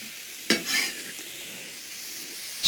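Tofu dropped into a pan of frying vegetables, a sharp splash and crackle at the moment it lands, then a soft steady sizzle with a clink at the end, close and without speech.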